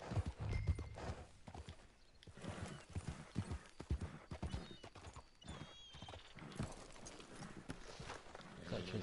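Horse hooves clip-clopping at a steady walking pace in Red Dead Redemption 2, close and rhythmic with a whinny near the start and brief scuffs of movement.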